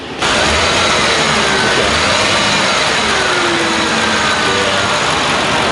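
A truck engine runs loud and close with a steady, high-pitched whine layered over its constant drone, no voices over it.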